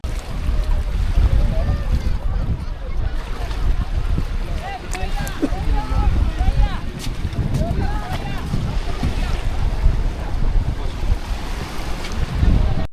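A speedboat crosses open sea in the Bay of Bengal, its loud continuous motor roar mixed with wind buffeting the microphone and waves slapping the hull throughout.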